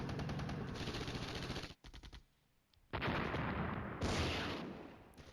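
In the Flashpoint Campaigns: Red Storm wargame, M1 Abrams tanks fire on enemy headquarters units in loud, rapid, rattling bursts of gunfire. A short lull separates one long volley from the next dense burst.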